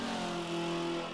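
A Mazda NA2 laps the Mount Panorama circuit, its engine holding a steady, sustained mid-pitched drone with a slight rise, heard close and alone.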